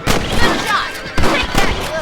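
Rifle shots at rabbits in Red Dead Redemption, a few sharp close gunshots in quick succession with booming reports, spread across the short stretch.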